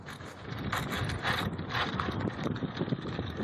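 A zipline trolley brakes on its cable at Callaway, giving a rattling, ratcheting mechanical whir of rolling and grinding, moderately loud and continuous for a few seconds with no talk over it.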